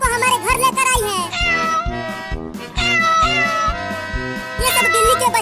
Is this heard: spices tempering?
no